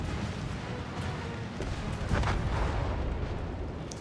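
Sustained rumbling explosion of a warship in World of Warships, with crackling bursts, a deep low-end roar that swells around the middle and keeps booming, loud and continuous.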